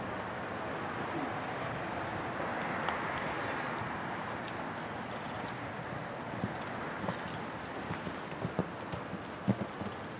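Horses ridden over jumps at an outdoor show-jumping clinic, including a Liverpool water obstacle, their hooves clip-clopping steadily on the ground, with sharper thuds toward the end and faint birds in the background.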